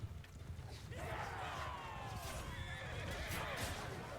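Horses neigh and whinny amid the clash of a medieval battle in Mount & Blade 2: Bannerlord, several whinnies rising over a dense, steady din of combat noise and hooves.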